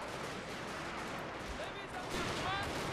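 Dense distant crackle of massed musket volleys from troops in a Total War: Shogun 2 Fall of the Samurai battle, a continuous faint roar of shots with talk over it.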